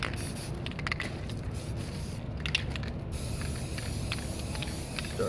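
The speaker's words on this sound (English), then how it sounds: "be sure to kind of spray off to the side a little bit first, just to get any of the clear liquid part out of there" Krylon aerosol spray paint can hissing in a few short bursts of spraying, fairly close, over a steady low background rumble with no talking.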